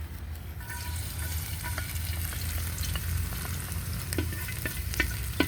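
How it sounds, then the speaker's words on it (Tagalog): Garlic and onion sauté in hot oil with a steady, close sizzle, while a utensil stirs and scrapes the pan in scattered clicks and taps throughout, no voices present. "Magigisa kami ngayon ng bawang at sibuyas."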